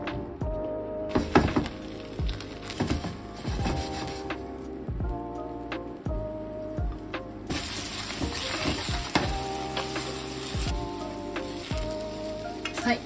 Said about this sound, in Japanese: 次にこの残ってる油を使ってナスを炒めていきます。